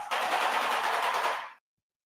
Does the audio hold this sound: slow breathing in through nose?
no